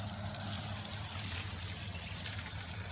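Water trickles and pours steadily onto garden plants in a yard, a continuous close splashing stream running without pause.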